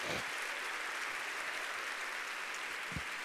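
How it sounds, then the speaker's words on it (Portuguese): A Baptist church congregation applauds during an evening service, dense continuous clapping that holds steady at a moderate distance for the whole stretch. "Vamos aplaudi-lo."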